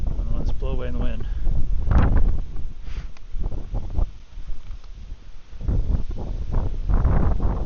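Wind gusts buffet the microphone outdoors during a roof inspection among loose repair shingles, rising and falling in rough bursts, while someone talks over it.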